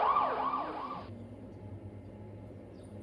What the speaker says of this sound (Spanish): La tenemos parada la ambulancia.